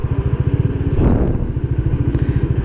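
A Bajaj Dominar motorcycle idles with a loud, close, lumpy exhaust thump, then a single quick rev swells and falls back before the steady rhythmic idle resumes.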